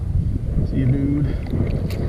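Strong wind buffets an open-water kayak while fishing for bass, a steady low rushing roar across the mic throughout, with a voice faintly heard over it.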